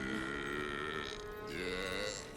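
A long, loud, drawn-out belch from a character in the video game Fable III, close and continuous with a rising and falling pitch, no talking.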